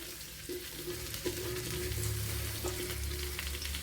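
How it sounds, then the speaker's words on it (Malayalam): Ladies' finger okra fries in a teaspoon of coconut oil, giving a steady close sizzle with a few light stirring taps, and no voices over it. "ഒരു വൺ ടീസ്പൂൺ വെളിച്ചെണ്ണ ഒഴിച്ചു കൊടുത്തിട്ടുണ്ട് അതിലേക്ക് ഈ വെണ്ടയ്ക്ക കൊടുക്കുക"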